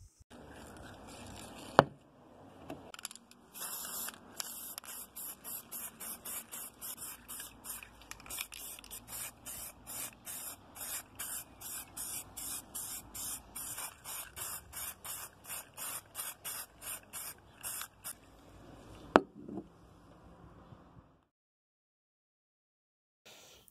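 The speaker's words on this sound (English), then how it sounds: "We're just going to rattle can this in the garden now." A spray paint can lays a base coat on a Lima OO gauge tanker wagon outdoors in a garden: a long run of short, rhythmic hissing bursts, with a sharper click near the start and end, then quiet.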